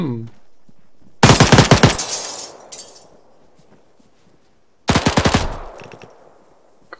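Two loud, close bursts of automatic gunfire in ARMA 3, a rapid rattling volley about a second long each, separated by a quieter stretch with faint echoes.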